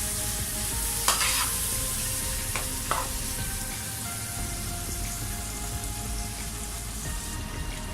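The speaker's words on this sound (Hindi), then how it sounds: "और दही को मैं अच्छी तरह जो है मिक्स करता हूँ।" Yogurt being mixed into mutton karahi in a hot pan, a constant crackling sizzle with a couple of sharp spoon scrapes early on, close and steady with no speech.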